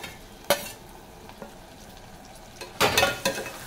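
Tomatoes, green chilies and curry leaves frying in a pan for goat leg curry, a faint sizzle under two louder bursts of stirring and utensil clatter, one early and a longer one near the end.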